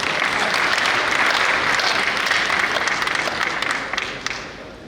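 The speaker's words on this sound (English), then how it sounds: "Please, a round of applause for you." A large audience at a symposium at KNUST marking 150 years of the Sagrenti war breaks into loud, sustained applause, a dense wash of clapping that holds steady before tapering slightly near the end.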